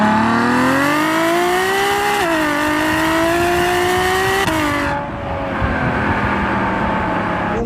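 Ferrari FF's big engine accelerating hard, a loud rising wail climbing through gear shifts before the revs drop off and it settles into a lower rumble.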